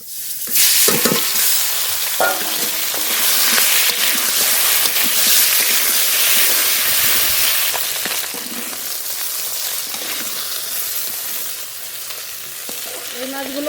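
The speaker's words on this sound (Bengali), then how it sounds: "বাকি মাছগুলো এই তেলে ভেজে নেব" The remaining pieces of fish fry loudly in hot oil, a close, dense, steady sizzle with scattered pops and a brief stirring scrape, no talking over it.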